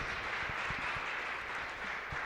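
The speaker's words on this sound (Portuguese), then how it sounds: "Vamos bater palmas bem forte para louvar o santo nome de Jesus." Church congregation clapping hands in praise during a worship service, a dense, steady wash of many hands with a few sharper nearby claps standing out, continuous throughout.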